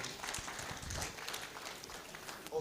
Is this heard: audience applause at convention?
yes